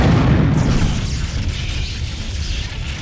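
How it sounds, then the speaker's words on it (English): A huge explosion in the game Unreal, with a loud boom at the start that decays into a long, rumbling tail and no voices over it. "huge explosion and a really cool looking aftermath"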